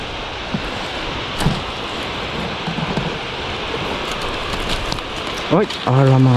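Steady rain falls on surfaces all around, a dense, even hiss with scattered drops, and a brief sharper sound near the end.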